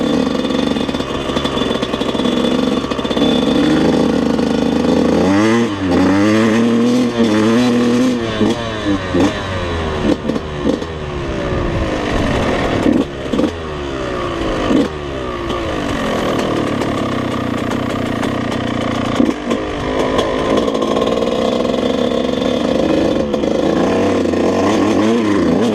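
Yamaha YZ125 two-stroke dirt bike ridden during top-end break-in, its engine revving and accelerating through gears in a continuous loud, buzzy drone with repeated rises and dips in pitch, close to the rider.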